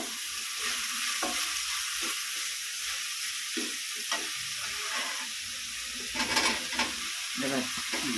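Mushrooms fry in a pan with a bright continuous sizzle, broken by regular scraping strokes of a spoon stirring them, close and steady.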